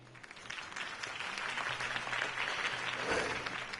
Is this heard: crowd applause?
yes